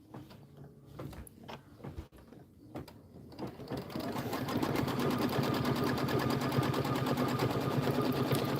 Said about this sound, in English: So let's go ahead and stitch that down.